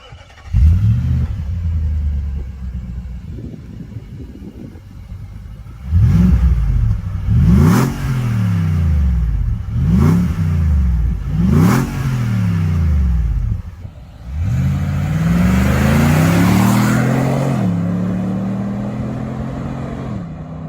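A car exhaust fitted with two mufflers revs repeatedly, several sharp throttle blips in a row followed by a longer, rising rev, loud and close with no talking.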